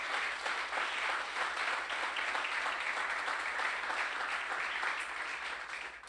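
A church congregation claps and applauds steadily, a dense sustained wash of hand claps that fades slightly at the end.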